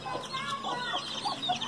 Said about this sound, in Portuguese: É aqui que tinha uma galinha que gostava de bater nos outros franguinhos, nas outras galinhas, até no galo.